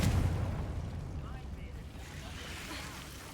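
A Confringo explosion spell goes off in the Hogwarts Legacy video game, opening with a deep booming burst that settles into a sustained rumbling roar and fades slowly over a few seconds.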